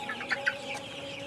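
Chickens on a farm kept for 41 days cluck softly nearby, giving two short, sharper clucks in the first half over a steady murmur of the flock.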